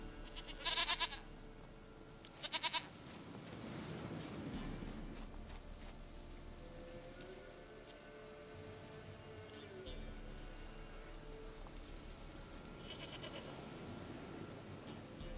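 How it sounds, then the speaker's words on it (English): A goat in The Witcher 3: Wild Hunt gives a couple of short, loud bleats near the start, over soft rain-like ambience and distant voices. "Goat of mine, dearest, sweetest goat."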